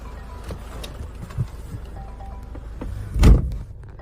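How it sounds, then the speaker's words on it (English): The electric boot of a car with an automatic transmission and a diesel engine opens with a faint motor hum. A soft thunk lands near the end, all fairly quiet and close. "As we approach the boot, we can see that it's electric."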